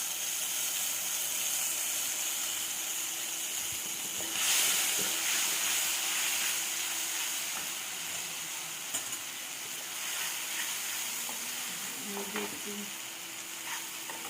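Mustard and green chili paste hitting hot oil in a wok, frying with mustard seeds and black cumin for a vegetarian potol dorma, giving a steady close sizzle and hiss throughout, with a brief louder flare partway and light utensil clinks near the end.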